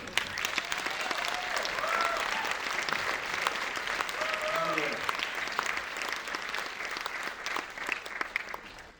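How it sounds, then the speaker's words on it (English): An audience at a Q&A event claps for Joost Bakker and architect Jeremy McLeod, dense sustained applause filling the room for about nine seconds and fading slightly at the end. "A big round of applause, please."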